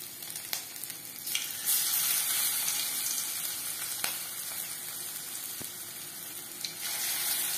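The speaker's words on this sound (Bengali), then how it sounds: "পাকোড়া ভাজবো মিডিয়াম ফ্লেমে।" Prawn and vegetable pakoras fry in plenty of refined oil over a medium flame, making a loud, continuous bubbling sizzle with a few faint clicks.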